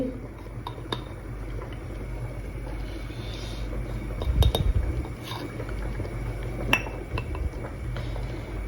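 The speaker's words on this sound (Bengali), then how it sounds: "এখন এটা মাখায় নিব মশলা একটু দিতেছি" Food being mixed by hand with spices, including chili powder and salt, in a bowl in a home kitchen, giving soft continuous squelching and scraping with occasional clinks against the bowl, close and fairly quiet.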